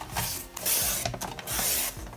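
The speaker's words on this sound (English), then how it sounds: "For the large lines, I'm going to use my paper trimmer." Two long scraping swipes of a paper trimmer blade slicing through paper, close up, with a brief clatter between them and no voices.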